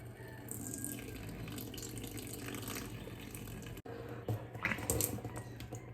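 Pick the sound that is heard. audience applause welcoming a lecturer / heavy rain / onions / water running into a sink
water running into a sink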